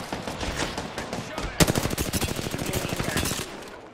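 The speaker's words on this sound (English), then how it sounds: "Opening fire." Video game gunfire: a fast automatic burst of loud, close shots rattling for about two seconds, preceded by busy game background noise.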